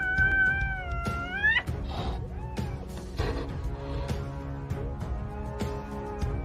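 A mother cat fights off a python with loud, harsh yowls and caterwauls, several rising cries early on, followed by hisses, sharp thumps and scuffling throughout.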